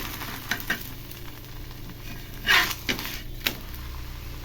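A dosa sizzles in a little oil on a hot pan. The steady frying hiss is broken by a few sharp scrapes and clatters as the spatula works under it.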